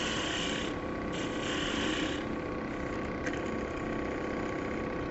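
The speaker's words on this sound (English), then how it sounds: "These are all slicing cuts, they're not scraping" A wood lathe spins a goblet blank while a turning tool makes slicing cuts, giving a continuous close hiss and rasp over a steady motor hum, with brief changes in texture as the tool shifts.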